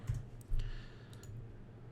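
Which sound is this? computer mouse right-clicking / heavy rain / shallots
computer mouse right-clicking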